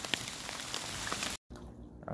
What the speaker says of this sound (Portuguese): tem que enfrentar a chuva também